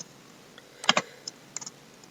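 Computer keyboard being typed on during an HTML coding lesson: a brief cluster of two quick clicks followed by a few lighter, scattered keystrokes, close and quiet, with no voices.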